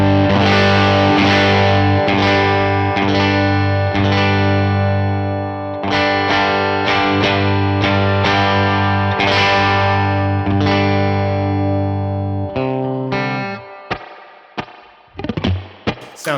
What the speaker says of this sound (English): So here's some neck pickup clean sounds as we add gain.